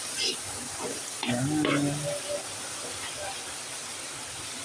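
Ground meat for spaghetti hits a hot pan, a steady broadband sizzle and hiss with stirring, while a voice talks briefly over it.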